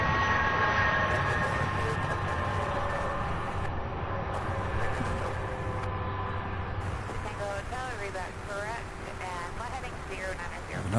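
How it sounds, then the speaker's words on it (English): A Southwest airliner takes off at Louisville International Airport, a broad sustained engine roar with rising whine, heard at a distance under ongoing talk. "Looks like we have a Southwest lining up for takeoff."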